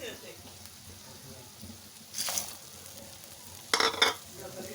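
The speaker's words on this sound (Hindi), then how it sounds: "इन सारे चीज़ों को अच्छे से मिक्स करके थोड़ी देर के लिए हम भून लेते हैं।" Spinach, carrot, peas and potato are stirred and sautéed in a pan. A quiet background hiss is broken by a few short scraping and sizzling bursts from the stirring.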